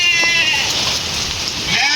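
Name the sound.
rain falling in a village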